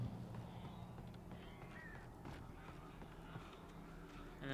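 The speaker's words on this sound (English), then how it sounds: "These fucking birds will be mad now." Crows cawing in the Alan Wake video game, a few harsh calls sitting low in a busy mix of game ambience and footsteps, faint and somewhat distant.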